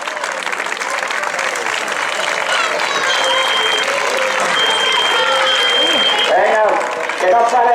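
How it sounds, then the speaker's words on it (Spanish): Spectators at the finish of a popular road race in Meaño applaud continuously and loudly, with cheers and a whistle rising over the clapping and a brief dip before it resumes. "A ver ese aplauso, me dan los sprint, venga generoso, vamos."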